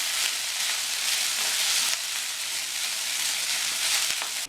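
Cooked rice hisses and sizzles in a hot pan over a low flame as it is stirred, a steady frying crackle with small scraping bumps throughout.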